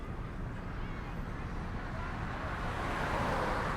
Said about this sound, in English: The sound of passing cars filled an uncomfortable silence.